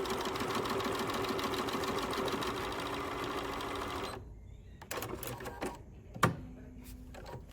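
A BERNINA 485 sewing machine stitches through eight layers of heavy denim, its motor running in a steady, rapid mechanical rattle for about four seconds before stopping, followed by a few faint clicks and handling noises.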